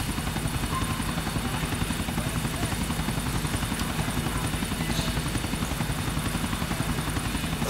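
In GTA 4, a helicopter's rotors thump in a fast, even beat with a constant engine whine, loud and unbroken for the whole stretch.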